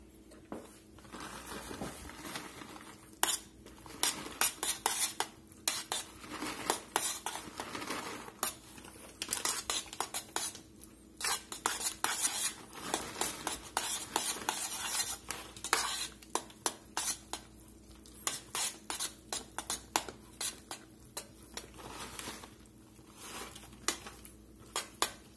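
A spoon scrapes and clanks against a pot while cheese is stirred into cooking grits, giving loud, irregular metallic knocks and scrapes in rapid bursts.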